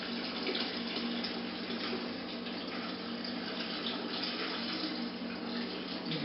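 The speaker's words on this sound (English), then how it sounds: "Let me rinse this out a little bit, add a little water." Running tap water pours steadily while winemaking kit equipment is rinsed out. It makes a continuous, even splashing rush with no pauses and no talking.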